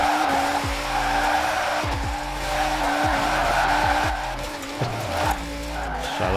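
A car drifting in the racing game Forza Horizon 4 howls with a continuous high engine whine as tires squeal and skid through repeated slides, with gear shifts dipping the pitch, loud and unbroken with no voices.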